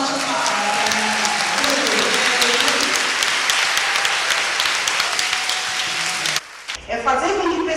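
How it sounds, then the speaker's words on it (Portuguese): Audience applause for a speech on Black representation, with dense, steady clapping and crowd noise filling the room for about six seconds before stopping abruptly, followed by a brief voice. "uma salva de palmas"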